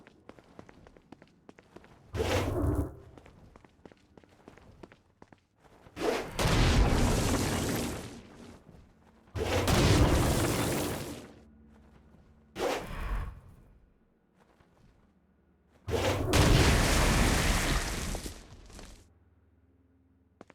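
Stone Blast attacks in Saints Row: Gat Out of Hell erupt as several loud booming bursts with whooshing debris, each lasting a second or two, spaced between quieter game ambience and footsteps.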